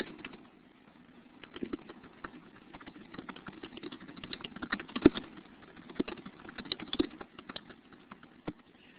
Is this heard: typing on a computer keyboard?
yes